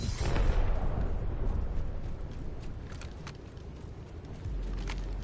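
Grenade going off in Apex Legends: a deep booming blast that rolls and fades over a few seconds, followed by scattered faint gunfire cracks in the distance.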